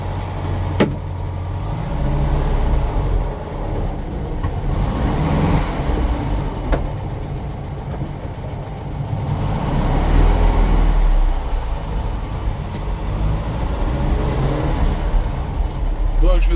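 A VW Beetle with a rebuilt engine driving, its steady low engine drone rising and falling as it moves, with someone talking over the running motor throughout.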